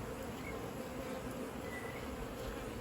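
Honeybees buzz steadily around a beehive, a dense, continuous drone that holds even throughout without pause.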